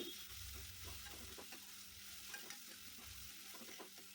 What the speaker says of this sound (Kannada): ಕರ್ಬೇವು ಸೊಪ್ಪು ಹಾಕ್ಕೊಂಬಿಟ್ಟು ಇವಾಗ ಚೆನ್ನಾಗಿ ಫ್ರೈ ಮಾಡ್ಕೋತಾ ಇದ್ದೀನಿ